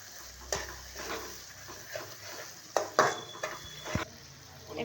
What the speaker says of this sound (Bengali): বন্ধুরা দেখুন এত সময় ধরে কষানো হচ্ছে পেঁয়াজ আর মশলাগুলো, কি সুন্দরভাবে কষানো হচ্ছে।